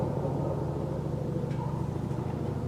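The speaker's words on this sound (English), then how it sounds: "A little helicopter action." Helicopter passing overhead during a whitetail deer hunt outdoors, heard as a steady low rotor rumble that fills the whole stretch at moderate distance, with no talk over it.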